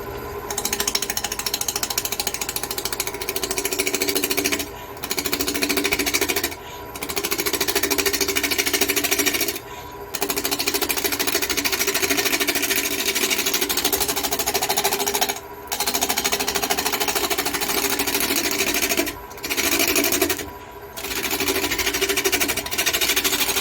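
Woodturning gouge cutting a wooden hummingbird house blank spinning on a lathe, a loud steady grinding chatter that runs in long stretches broken by several brief pauses as the tool lifts away.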